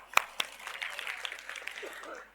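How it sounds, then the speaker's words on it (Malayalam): Applause from a studio audience, with a couple of sharp claps up front followed by a light, scattered patter of clapping that stays fairly faint. "കൈയടി കൊടുക്കും"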